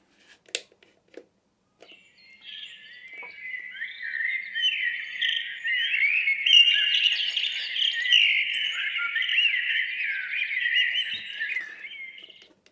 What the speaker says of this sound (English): Should we listen to some bird music whilst we're watching the votes come in?